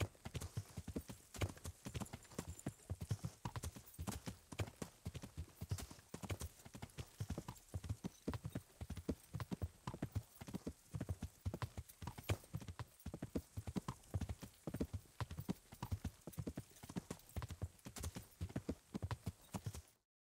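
A horse gallops in the medieval video game Kingdom Come: Deliverance, its hoofbeats clip-clopping fast and steady the whole way through, with a brief whinny.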